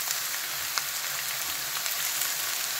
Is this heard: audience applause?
no